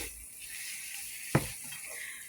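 Onion gravy in bacon grease sizzles steadily in a pan, a close, even crackling hiss with one sharp stir or scrape near the middle and no talk.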